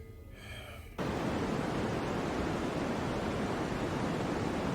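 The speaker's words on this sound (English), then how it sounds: "it's just my white noise" A white noise machine for sleeping, used aboard a warship, switches on abruptly and fills the room with a loud, even, steady hiss that continues unbroken.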